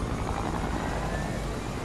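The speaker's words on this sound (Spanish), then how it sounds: "Nos subimos otra vez al helicóptero." A helicopter in a Fortnite-style video game, known as a Choppa, gives a steady, dense rotor whir and engine rumble, loud and continuous with no talk.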